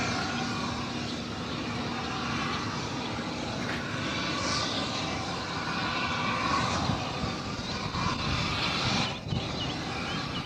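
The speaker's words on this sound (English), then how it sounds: "this United here is going to Denver. This is United Flight 530 and the Airbus A320." A United Airbus A320 airliner on Flight 530 to Denver makes a steady, distant engine roar that holds evenly throughout with no talk.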